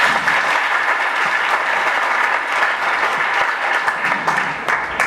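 Sustained applause from a seminar audience, a steady dense wash of many hands clapping at close range with no pauses, lasting several seconds on its own.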